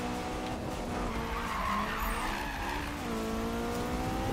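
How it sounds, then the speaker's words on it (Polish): Tires skid and squeal as a car drifts in Need for Speed 2015, a loud, sustained screech layered over a revving engine that runs steadily the whole way through. "puszczasz lekko gaz, dajesz gaz do końca i samochodzik sam w drift wchodzi"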